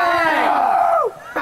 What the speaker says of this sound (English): It sounds like there's a whole bunch of people back there yelling